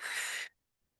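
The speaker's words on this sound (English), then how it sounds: "big breath in, big breath out" A single breath during an EFT tapping session, a half-second breathy rush of air that ends abruptly, followed by silence.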